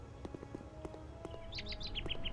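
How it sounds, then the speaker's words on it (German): A bird chirps in a series of short, bright tweets over a faint ambient background in the Star Wars Jedi Knight II game, growing more frequent toward the end. "Ein Vogel. Wie schön."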